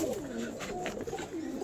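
A male Andhra fulsira pigeon coos in a low, rolling, repeated call close by, with a faint rustle underneath.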